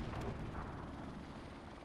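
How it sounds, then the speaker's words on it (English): Rumbling, roaring helicopter from a military first-person shooter match on a district map, sustained and fairly steady across the short stretch with a dense low drone, no speech over it. "Friendly helicopter on the way."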